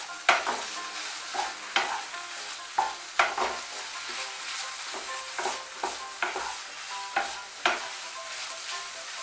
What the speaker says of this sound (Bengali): এখন আঁচটা বাড়িয়ে দিয়ে একটু নাড়াচাড়া করে নেব।